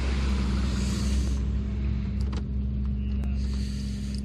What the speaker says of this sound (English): that Volvo 360 behind me is leaving